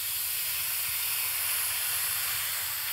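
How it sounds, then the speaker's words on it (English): Eye fillet beef searing on a hot barbecue flat plate gives a steady, even sizzling hiss, constant and moderately close with no talking over it. "it's a hot barbecue. Let's sear it on the flat plate"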